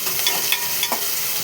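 Curry ingredients frying in a pan, stirred until golden: a continuous bright sizzle with soft scraping strokes of the spoon, close and alone with no voices.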